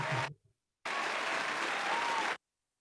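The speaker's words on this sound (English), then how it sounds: "Love the applause." Audience at a medical lecture event applauding as two doctors are welcomed: a short burst of clapping, a brief pause, then about one and a half seconds of full, even applause that stops abruptly.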